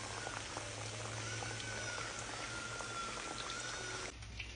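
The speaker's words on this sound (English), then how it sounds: "I'm just gonna start dropping them in the oil, just like so, and then let them fry up" Food fries in hot oil with a soft, constant sizzle and scattered crackling pops, fairly quiet and steady, dropping abruptly near the end.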